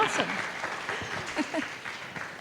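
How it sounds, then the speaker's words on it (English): Audience applause following a call to give themselves a hand during an art talk, light and uneven with a voice speaking over it throughout. "Give yourselves a hand"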